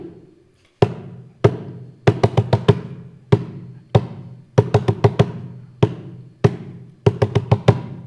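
Simple two-handed hand-drum beats, played as a steady pattern of sharp, close strikes, mostly single hits with bursts of quick double and triple hits, clear and alone with no voices.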